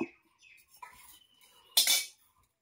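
A karahi set down onto a lit clay stove: one brief, fairly loud clattering knock of metal on clay, preceded by faint scattered kitchen clinks.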